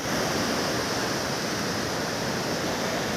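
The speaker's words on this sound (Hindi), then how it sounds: "लहरें तेज़ होती हुई और लगातार लहरें आ रही हैं," Strong sea waves during a boat trip to Saint Mary Island, a loud continuous roar of rushing water and spray with wind noise, steady throughout and with no talking.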